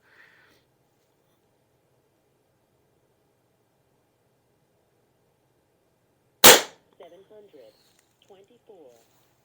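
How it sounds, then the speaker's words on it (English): A single sharp, loud shot from an Aselkon MX7s subcompact bullpup .25 caliber air rifle firing heavy JSB Hades pellets, followed by quiet, faint speech. "let's try 5 shots at the top target with the Hades"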